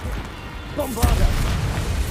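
A single blast from the Bombarda spell in the Hogwarts Legacy video game bursts out about halfway through, following a short rising magical tone and leaving a low rumble under steady background noise.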